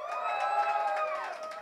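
Audience at the Broken Complex MC battle cheering and shouting loudly for battle rapper Hazerd, a dense continuous roar of voices with whoops throughout.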